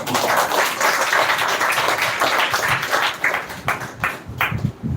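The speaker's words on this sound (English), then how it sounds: "So please clap for yourself again." Students at a women's education grand finale event clap together in a sustained, fairly loud burst of applause that continues steadily, thinning into scattered claps toward the end.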